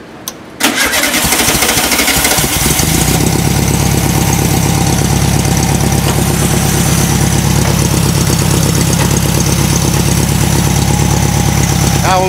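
A carbureted VW engine turns over and catches, then runs steadily and loudly at idle with a rough, pulsing rhythm up close, after a brief clatter at the start.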